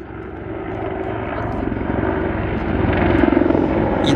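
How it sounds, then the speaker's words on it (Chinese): A helicopter flies over a mountain valley trail near Tre Cime in the Italian Dolomites, its steady rotor and engine drone growing louder and more pulsing as it passes close overhead, with no talk. "天空总是有许多直升机在出勤"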